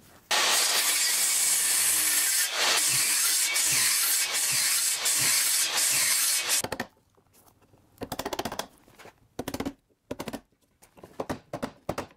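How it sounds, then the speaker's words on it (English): A circular saw cuts a mortise into a wooden 4x6 post in a loud, continuous, whining burst lasting several seconds. It is followed by quieter, scattered knocks and scrapes from the cleanup work, with no talking. "take my circular saw, cut this out, chisel it out clean"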